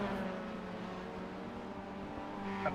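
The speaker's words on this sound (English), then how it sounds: "I hear cars coming up on him" Race cars in a sim racing video game approach as a droning, tonal engine whine that holds steady and builds slightly toward the end, heard fairly faint and alone.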